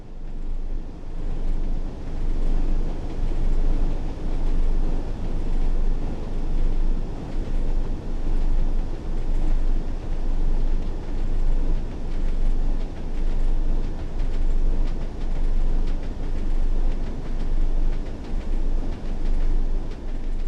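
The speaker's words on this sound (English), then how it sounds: "This Class 101 diesel mechanical multiple unit features a geared transmission" A Class 101 diesel mechanical multiple unit train with geared transmission, simulated in Train Sim World on the North Trans-Pennine route, gives a continuous loud rumbling engine drone with steady low throbbing, unbroken throughout.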